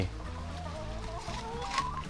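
Chickens on a Thai integrated farm in Buriram cluck and call close by, a steady busy flock sound with low rumbling background throughout, no voices over it.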